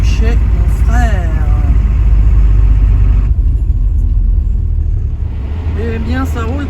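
Campervan rolling along a sunny road toward Limoges, a loud steady engine rumble with road noise from inside the cab, while someone speaks French over it.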